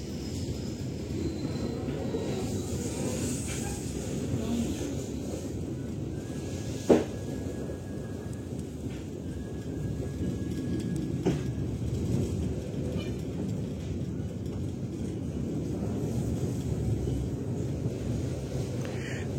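The Siliwangi train on the Sukabumi–Bandung line, a slow mountain railway, rumbles steadily at low speed, with a few sharp knocks and faint squeals over a continuous, moderately loud running noise.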